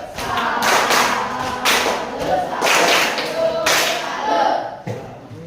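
Schoolchildren in a classroom doing a salute clap together, loud bursts of group clapping in a rhythmic pattern, each burst separated by short pauses.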